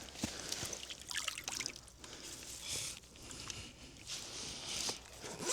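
Soft watery trickling and dribbling as a landing net holding a fish is set down into the water while fishing with a float rod, faint splashes and drips close by.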